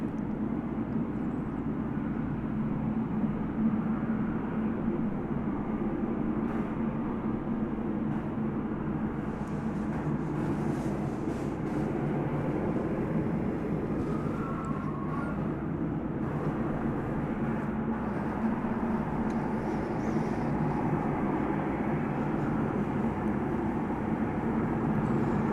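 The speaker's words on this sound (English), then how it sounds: "So the Flying Oryx about to take to the skies here at DFW Airport." A Qatar Airways airliner takes off at night at DFW Airport, a steady broadband jet roar heard from a distance, holding at a constant level throughout with no voices.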